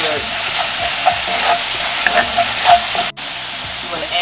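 Onion and garlic fry in a pan for seafood paella, giving a loud, steady broadband sizzle with crackles and soft stirring scrapes throughout, broken by one very brief dropout near the end.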